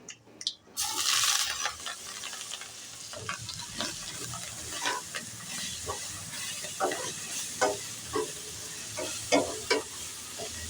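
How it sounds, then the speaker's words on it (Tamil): Capsicum and onion sautéing in a pan for a gravy, sizzling and frying steadily with intermittent stirring scrapes and clatters, close and moderately loud with no voices. "சேர்த்து கொஞ்சம் நல்லா வதக்கணும். இப்போ இது நல்லா இன்னும் கொஞ்சம் வதங்கட்டும்."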